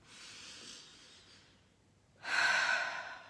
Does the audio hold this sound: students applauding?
no